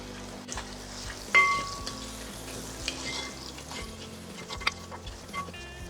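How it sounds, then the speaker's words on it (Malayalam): Ginger, garlic and green chillies with curry leaves frying in a pan, a low steady sizzle with occasional scraping stirs and small utensil clinks, fairly quiet and close, with no one speaking. "ഇഞ്ചിയും വെളുത്തുള്ളിയും പച്ചമുളകും ഒന്ന് മൂത്ത് വരുന്നത് വരെ നമുക്കൊന്ന് ഇളക്കി കൊടുക്കാം"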